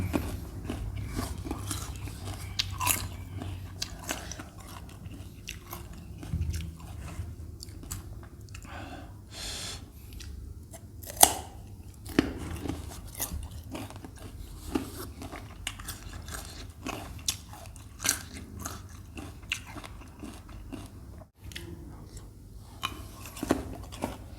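Someone eats water olives, giving steady close-up biting and crunchy chewing with irregular crisp clicks and smacks over about twenty-four seconds and no talking.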